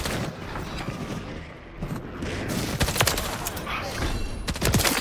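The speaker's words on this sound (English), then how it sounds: "Not the airstrike," Airstrike explosions in a PS5 shooter game, dense rumbling blasts and rapid crackling bursts piling up loudly, with a short lull before more heavy impacts roll in.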